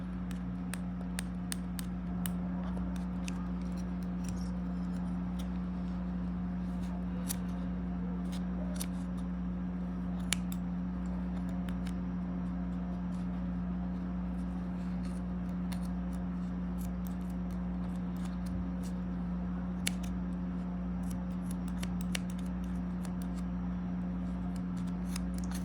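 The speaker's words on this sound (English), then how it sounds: "Again, just trimming those fibers right down the center." Scissors snip through the yarn fibers of a pom pom, with quiet, scattered cuts close by over a steady low hum and no talk.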